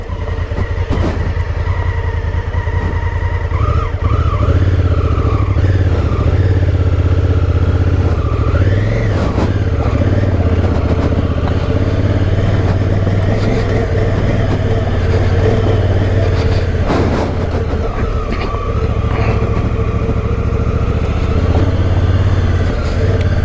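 Honda Africa Twin motorcycle engine running steadily through an off-road ride near a beach, a loud continuous low rumble with wind noise and shifting revs throughout, close to the rider.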